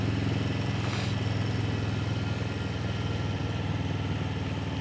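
Motorcycle cruising at about 30 mph on a winding California road: a steady, close engine drone with rumbling low tones and continuous wind noise, unchanging throughout.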